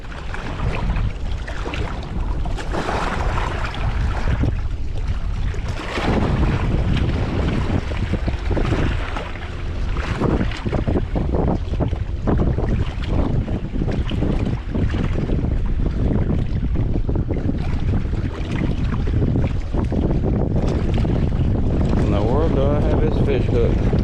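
Strong wind buffets the microphone at a lakeside bank during crappie fishing, a loud, continuous roar with gusting surges and choppy water lapping beneath it.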